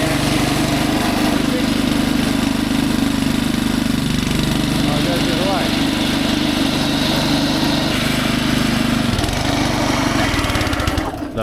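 A Westermann moss brush's small petrol engine runs loud and close at steady high revs, a continuous buzzing drone that cuts out abruptly at the very end, with voices talking over it.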